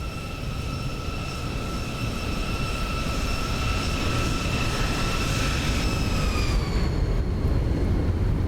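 Simulated Boeing 737-800 engines in X-Plane 11 after landing, a loud steady roar with high whining tones that hold level and then drop away as the engines spool down near the end.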